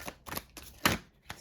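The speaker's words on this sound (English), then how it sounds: "I want to shuffle this deck again" Oracle cards being shuffled in several quick riffling bursts, close and crisp, with short pauses between them.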